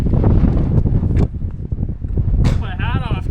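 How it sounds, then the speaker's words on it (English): Strong wind buffets a microphone on an exposed mountain traverse in stormy weather, a loud continuous rumble with gusts, heard under a person talking. "Put my hat off because now it's so windy."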